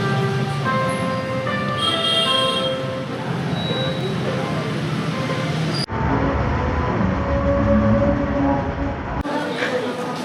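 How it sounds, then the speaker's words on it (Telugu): Busy platform ambience at Tirupati railway station, with a loud rumbling wash of train and crowd noise, tonal hums and squeals from rail machinery, and background voices throughout, broken by an abrupt cut partway. "సో నేను తిరుపతి రైల్వే స్టేషన్కి అయితే వచ్చేసా"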